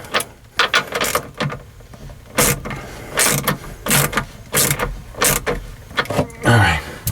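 A ratchet clicks in irregular bursts of short, close, sharp strokes while bolts on a sailboat bow eye of a Com-Pac 23 are snugged down, with quieter handling sounds in the gaps.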